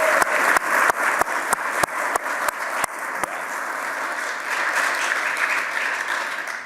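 Audience applause at an executive's remarks, opening with a few distinct, evenly spaced loud claps that quickly blend into a sustained, full round of clapping from the crowd.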